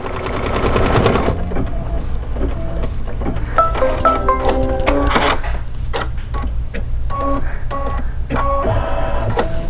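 A computerized embroidery machine stitches strips for a Kimberbell embroidery project, a loud, close, rapid mechanical chatter of needle strokes with shifting whirring tones as the hoop moves.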